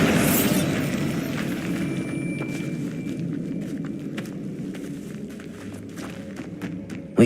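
A Bombarda spell explosion from Hogwarts Legacy sets off a loud, close burst that rolls into a long rumbling decay, with scattered footsteps and light clicks as it fades.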